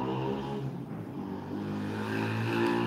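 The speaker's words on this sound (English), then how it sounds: "motorcycle they're so loud" A loud motorcycle goes by outdoors, its steady engine drone rising slightly toward the end and holding over a continuous rumble, with no talk over it.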